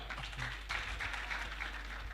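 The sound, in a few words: applause for Rumaga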